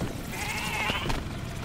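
Goat bleating in Goat Simulator 3, a wavering mid-pitched cry rising over steady game background noise, close and moderately loud, lasting about a second.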